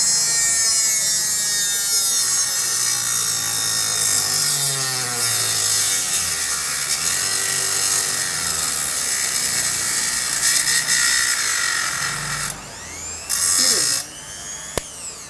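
An INGCO mini rotary grinder fitted with a cutting blade, set to a slow speed, whines steadily as it cuts, a continuous close grinding and rubbing drone that shifts pitch briefly near the end.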